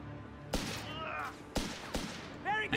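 Sniper rifle shots ring out in Company of Heroes 3, three sharp separate cracks over a low game background with faint battle noise.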